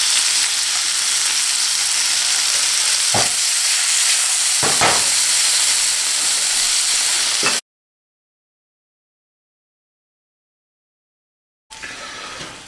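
Garlic and fresh basil sizzle in a hot pan for mushroom toppings, a loud steady hiss with a few stirring clatters, cutting off abruptly before the frying noise returns briefly at the end.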